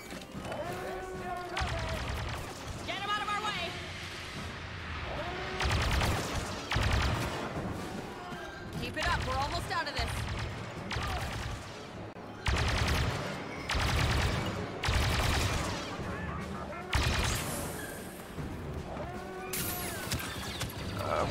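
Heavy weapons gunfire in Star Wars Battlefront II: dense, loud bursts of blaster and mechanical firing recur in rapid volleys throughout, with shouted voices and combat effects mixed in.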